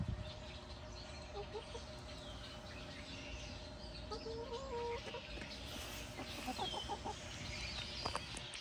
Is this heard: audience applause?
no